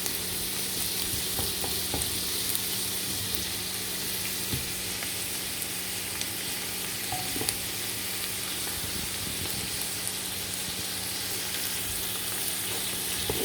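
Onion frying on high heat in a pan for chicken pasta, a constant loud sizzle and hiss with faint scattered clicks of stirring, steady throughout without pauses.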